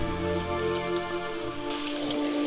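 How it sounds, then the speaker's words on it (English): Rain patters steadily on leaves, a dense even hiss of drops over a sustained low droning tone, with no voices. "the pitter-patter of rain on the leaves"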